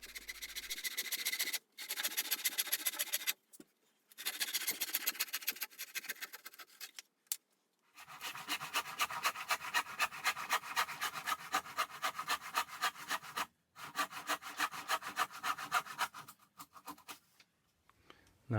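A Stanley hand saw with hardened teeth cuts through wood in fast, rhythmic rasping strokes, close and clear, coming in several bursts separated by brief pauses.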